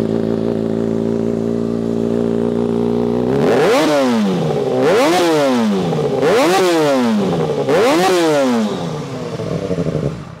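A 2022 Kawasaki ZX6R stunt bike fitted with a Two Brothers exhaust system idles loudly close by, then is revved in four sharp, even blips that each rise and fall back, before settling to idle again.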